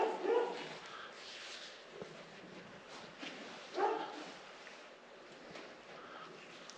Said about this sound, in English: because the dogs will bark.